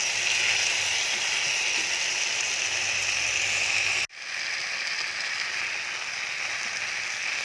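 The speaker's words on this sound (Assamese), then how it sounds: "ফুলকবিখিনি ভাজি ল'লোঁ" Cauliflower florets frying in a pan for a curry give a steady, dense sizzle from start to end, with one abrupt momentary dropout near the middle before the hiss resumes.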